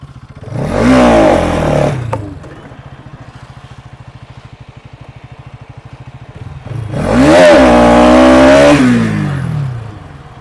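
A Bajaj NS 200 motorcycle engine, running on a mileage test until its fuel tank is empty, roars through two loud full-throttle revs that rise and fall, with a steady, throbbing idle between them.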